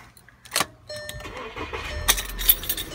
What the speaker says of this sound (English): and turn the engine on.